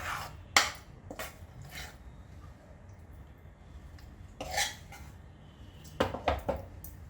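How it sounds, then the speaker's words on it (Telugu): A spoon scrapes and clanks against a pot while tempering is mixed into pulihora, tamarind rice with peanuts, giving a few separate metallic knocks spread out over quiet stretches, with a cluster of quick clatters near the end. "పులిహోర కోసం పోపు పులిహోర కలిపి చూపిస్తాను మీకు"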